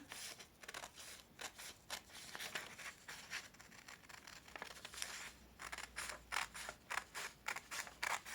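Paper being cut with scissors while making a New Year card, a steady series of crisp snips and rustles close up, with no voices.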